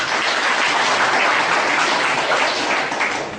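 A dense wash of audience applause fills the hall after a speech at a fisheries-sector event, steady and loud throughout with no pauses.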